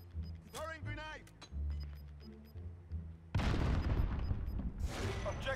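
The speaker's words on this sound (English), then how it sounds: "Throwing grenade" A grenade blast in the Modern Warfare beta, a loud booming burst with rumbling gunfire that follows, after a stretch of voices talking over the game.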